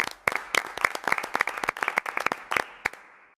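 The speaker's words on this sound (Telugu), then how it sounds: "అందరూ క్లాప్స్ కొట్టండి" A small group clapping after a child recites a Vemana poem in class, sharp separate hand claps close by, quick and uneven, thinning out toward the end.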